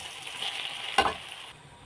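Soaked poha mixed with salt in a pan, a soft continuous sizzle with one sharp scrape of a spoon against the pan midway, close and brief.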